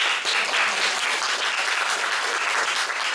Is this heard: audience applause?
yes